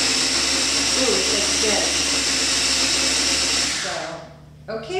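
A Cuisinart blender purees blueberries, a loud steady whirring motor close by that runs for about four seconds, then winds down and stops, with a voice speaking briefly over and after it.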